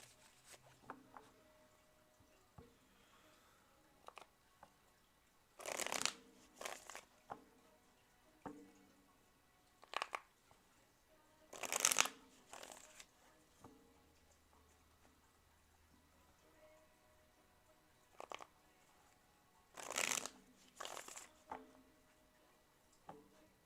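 Tarot cards shuffled by hand in several separate bursts, each a quick papery riffle or slide lasting about a second, spread across long quiet gaps with faint small taps between them.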